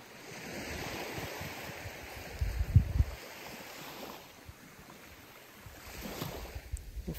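Ocean waves wash and surge softly at a distance, a faint continuous rushing with a swell of louder surf midway and again near the end, mixed with light wind noise.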